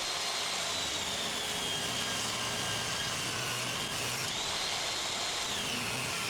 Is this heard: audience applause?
no